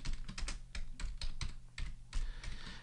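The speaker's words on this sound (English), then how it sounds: "I'm going to type in my name." A computer keyboard clatters as a name is typed, quick irregular bursts of keystrokes with brief pauses, close and fairly soft, no speech.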